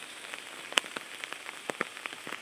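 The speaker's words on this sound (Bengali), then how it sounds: "আমাদের এখানে প্রচুর বৃষ্টি হচ্ছে" Rain falls in a garden during a stormy spell, heard as faint, scattered drops tapping on a surface at an irregular rhythm over a quiet background hiss.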